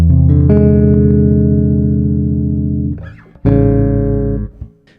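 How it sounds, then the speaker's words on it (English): A sustained low chord on bass guitar rings out for about three seconds, fades, then a second dense, clashing altered dominant chord is struck and held before cutting off. "you get very, very dissonant, tense sounds. Like this."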